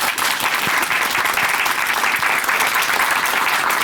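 A church congregation gives loud, dense applause after a personal testimony, the clapping steady and unbroken throughout with no voices over it.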